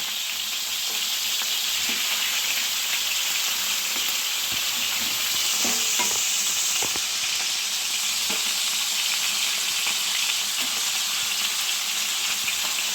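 Prawns and coconut pieces fry in a pan with a loud, continuous sizzle and hiss, broken by occasional clinks of stirring.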